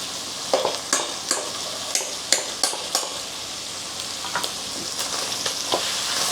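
Salted fish frying in a pan until golden, a loud steady sizzle punctuated by a regular series of sharp scraping stirs, close and without talk.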